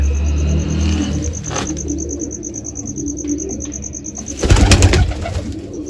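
Pigeons coo repeatedly in a village loft, a steady, fairly close murmur of calls over faint background noise, with a brief louder rustle, like wings or movement, near the end.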